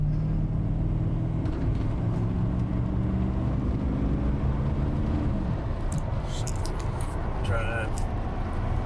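Lifted 1987 Chevrolet K10 pickup accelerating, a deep engine rumble climbing steadily in pitch for several seconds, then easing off after a shift, with road and wind noise and a few faint clicks toward the end.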